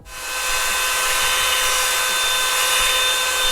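A steady, high-pitched whirring hum of air blowing from the small motor of a Revlon One Step hair dryer paddle brush, constant and close, with no talking.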